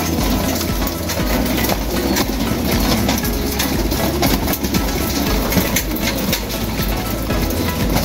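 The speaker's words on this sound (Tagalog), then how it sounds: "andito na yung mga ibon natin sa loob ng loft. Nagkakainan na sila." Pigeons coo continuously in a dense chorus inside a pigeon loft while feeding, layered with a steady background rumble and occasional wing flutters.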